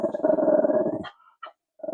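A pet dog named Archie growls and barks loudly up close for about a second, then lets out a couple of short, sharp yaps after a brief pause.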